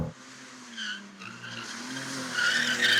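A 2023 BMW M2 drifting sideways lets out a loud, sustained tire squeal that wavers in pitch and swells toward the end, with the engine droning underneath.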